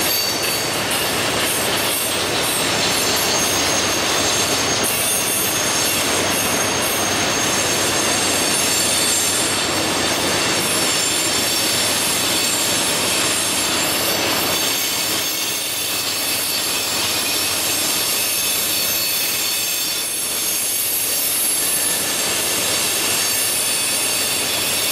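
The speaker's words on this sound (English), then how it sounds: "So, let's just get the trash train." A trash train rumbles past close by, loud continuous rolling noise with metallic wheel squeal and rattling cars throughout.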